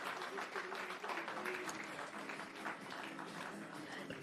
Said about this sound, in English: let's give a round of applause for all the award winners